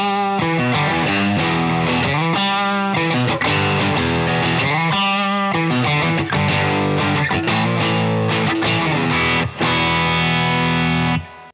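An electric guitar plays chords and riffs through a Harley Benton Dual Overdrive pedal, giving amp-style distortion, the tone thick and saturated, loud and close with no voices.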